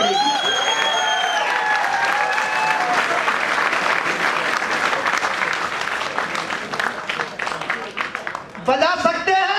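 Seminar audience in Delhi claps loudly and continuously, a dense crowd of hands with some cheering mixed in; a voice talks over it and it thins out toward the end as speech resumes.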